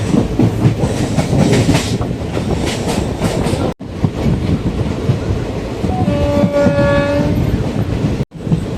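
A Madurai–Coimbatore passenger express train rumbles steadily along the rails, and partway through its horn blares in a long, loud, sustained tone over the running noise.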